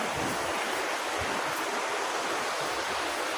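Steady broadband wash of ocean surf at a wide beach, a constant hissing roar with no distinct breaks between waves and no voices.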